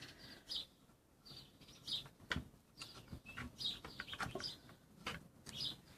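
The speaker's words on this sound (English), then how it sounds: "I can see there's little birds in the tree waiting for it." Small birds chirp and tweet in a tree near a plastic-bottle bird feeder, with short bright calls repeating irregularly over a soft outdoor background.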